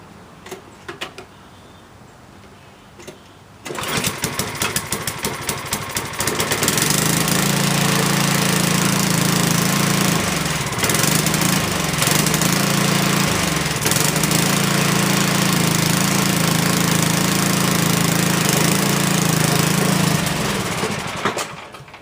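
Snow blower engine with a carburetor, pulled and started after a quiet pause, then running steadily and loudly at a rough idle with a slightly uneven throb throughout.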